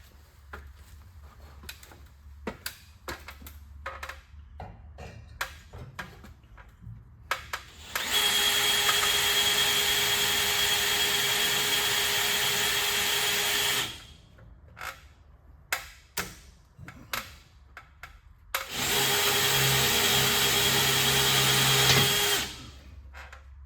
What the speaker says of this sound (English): run some self-tapping screws in there and see what she looks like